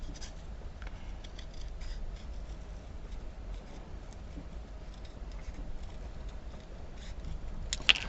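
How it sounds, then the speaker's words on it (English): Sticky scissors snip through paper or card in a craft session, giving faint, scattered cutting clicks and rubbing over a steady low background hiss. "Still haven't unstuck my scissors, as you can tell."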